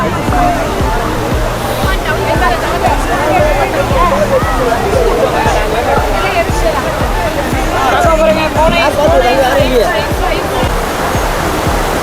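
Heavy water pours over Hogenakkal Falls in a loud, unbroken roar heard from a bridge viewpoint. A crowd babbles throughout.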